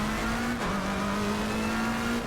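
Race car engine held at a steady high drone around a track chicane, with a brief dip in pitch as it is dropped into first gear before the revs climb back, loud and close with no talk.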